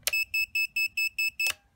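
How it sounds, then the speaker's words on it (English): A flight controller buzzer on a Skystars X140 micro FPV racing quadcopter gives seven short, evenly spaced high beeps, close and clear, with a sharp click at the start and end and no talk. "Buzzer."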